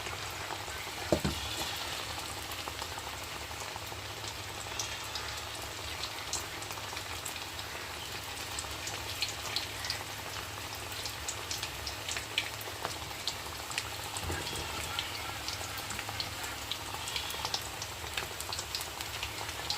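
Food frying in hot oil in a home kitchen, a dense, continuous crackling sizzle at even loudness throughout, close and without talk.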